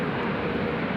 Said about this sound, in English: Emirates 412 now off to Christchurch